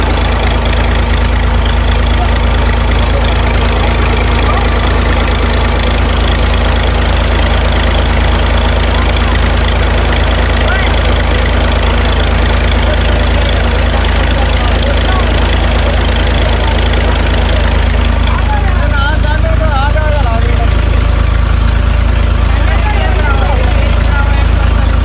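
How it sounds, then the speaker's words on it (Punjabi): A New Holland 480 tractor engine runs a village tube well, a loud, steady low diesel drone with a knocking idle that continues unbroken throughout, close by and dominating the scene. "ਇਹ ਜੀ ਨਿਊ ਹੋਲੈਂਡ ਕੰਪਨੀ ਦਾ ਟਰੈਕਟਰ ਹੈ ਜੀ 480, ਔਰ ਇਹ ਚੱਲਦਾ ਜੀ ਟਿਊਬਵੈਲ"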